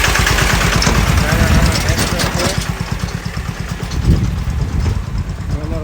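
A tractor engine chugs loudly nearby in a rapid, steady low thumping rhythm, with someone speaking over the noise.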